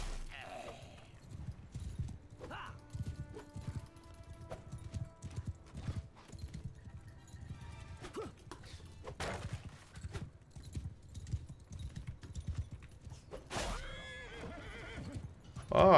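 Horse hooves clip-clop at a gallop with a neigh or whinny in a video game combat scene, running steadily under busy game sounds and effects.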